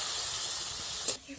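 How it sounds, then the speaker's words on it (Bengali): Water poured into a hot pan of frying spice mix for a small hilsa curry gives a loud, steady hiss and sizzle that runs on, then cuts off sharply near the end. "জলটা দিয়ে দিচ্ছি মশলার মধ্যে"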